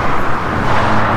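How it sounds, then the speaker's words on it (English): Traffic roaring steadily on a main interstate road through northern Montana, a loud continuous broadband rush of vehicles with big semi-trucks among them, close by and without talk. "Oh, and lots of big semi-trucks."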